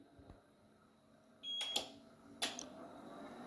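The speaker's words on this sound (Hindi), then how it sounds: "ये जो है ना कंटिन्यू बीप देता रहता है" An APC 3kVA tower UPS gives short, high electronic beeps at intervals, two sharp bursts standing out over a steady low hum, with no talking.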